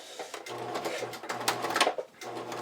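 A sewing machine runs zigzag stitches in short bursts, its motor humming steadily beneath rapid mechanical stitching, close by with no talking.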